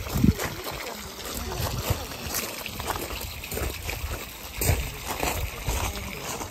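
Sea water laps along the shore beside the Miramare Castle garden in Italy. Soft, irregular splashes and trickles sit over a low, steady background, moderately close and never very loud.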